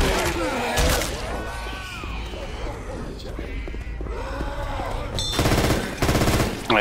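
Bursts of automatic gunfire in the Left 4 Dead 2 video game, loud rapid volleys at the start and again near the end, with voices talking over the shooting.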